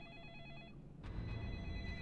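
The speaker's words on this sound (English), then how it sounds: "The phone's ringing!" A telephone bell rings in the video game Deadly Premonition, a faint electronic trill that repeats steadily over a low background rumble.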